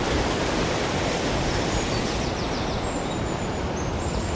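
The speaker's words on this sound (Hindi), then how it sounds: "वो जो झरना आप देख रहे हैं उस झरने के थ्रू चक्की चल रही है।" A waterfall fed by glacier meltwater drives a water mill in Neelam Valley, Kashmir, making a loud, steady, close rush of falling water with no pauses and no voices.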